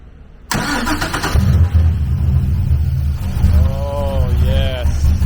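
An LS V8 swapped into a BMW E46 cranks and fires for the first time, the engine catching abruptly and settling into a loud, rough idle with a brief rev, close up while people exclaim.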